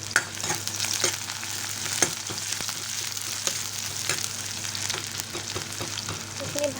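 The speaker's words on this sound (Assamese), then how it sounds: "পিয়াজ আৰু জ্বালাটো ভালদৰে ভাজি লৈ" Sliced onion and chili sizzle steadily in hot oil in a home kitchen pan, a continuous close crackle punctuated by occasional stirring scrapes and clinks.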